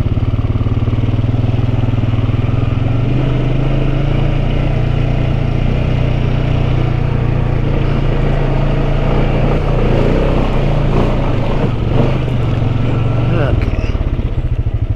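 Off-road vehicle engine pulling uphill on a rough trail, a loud steady low drone held close throughout with rattling clatter over it.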